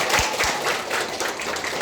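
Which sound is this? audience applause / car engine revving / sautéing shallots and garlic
audience applause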